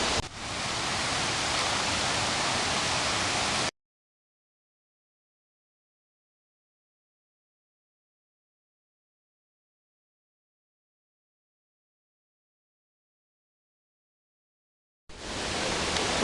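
Small waterfalls trickle over rocks in a steady broadband wash of water noise lasting a few seconds, then silence for a long stretch before the rushing resumes at the end.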